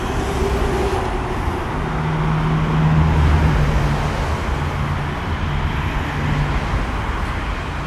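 Cars and trucks stream along the Brooklyn-Queens Expressway below a bridge, a loud continuous traffic roar with engine drones rising and fading as vehicles pass, heard from just above the roadway.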